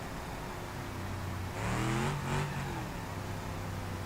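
A car engine in the BeamNG.drive driving game revving up and easing back down once, a mid-pitched rising then falling whine over a steady engine drone, with no talking.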